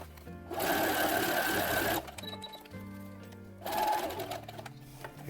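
Sewing machine running a standard zigzag stitch to attach Velcro to a fabric Star Wars jumpsuit, two close, loud bursts of fast mechanical stitching with a pause between, over quiet background music.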